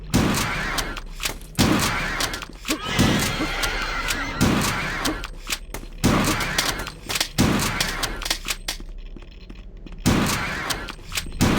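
Repeated gunfire from a first-person shooter, HROT, blasting a spider creature, coming in bursts across the clip with short gaps between volleys and heavy low-end thumps.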